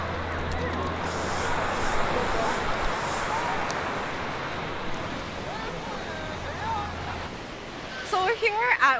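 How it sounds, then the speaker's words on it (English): Ocean surf washing steadily at Waikiki Beach, a broad continuous roar of breaking waves close by, with brief rustling and handling noises near the end. "So we're here at Waikiki Beach, and I'm about to take a water sample"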